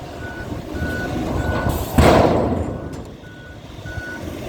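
A large truck rumbles past close by at a big dairy cattle feed farm in Israel, with repeated reversing beeps sounding throughout and a swell of engine and tire noise midway.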